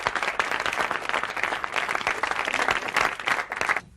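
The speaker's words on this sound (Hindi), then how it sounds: "तालियां।" A studio audience in a classic TV drama breaks into applause for an emerging performer, a full, lively burst of clapping that rolls on steadily and cuts off abruptly at the end.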